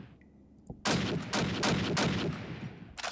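Gunfire in a Call of Duty battle, a quiet lead-in followed by several loud, close bursts of rapid automatic shots, each volley stuttering and overlapping with the next.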